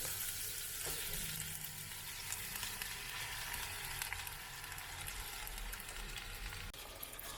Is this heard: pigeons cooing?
no